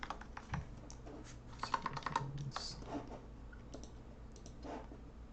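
Keys clatter on a computer keyboard as C# code is typed, in an uneven run of quick, light clicks up close with short pauses between bursts.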